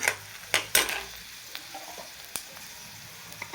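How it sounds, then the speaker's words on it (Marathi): Chopped onion goes into a hot tempering of oil and chillies for dahi tadka, setting off a few quiet sizzling bursts and light spoon clicks against the pan. "आता आपण ह्याच्यामध्ये घालूयात कांदा"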